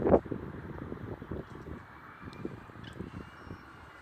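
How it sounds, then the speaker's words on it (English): Strong wind buffets an outdoor microphone with a steady low rumble and roar, a sharp gust at the start, and no talking. "It's a little too windy for me to fly because I am not good at all."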